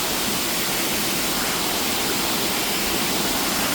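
Rushing water of a hidden waterfall in Vythiri, Wayanad, a loud, steady broadband roar that fills the whole stretch without pause and with no voices over it.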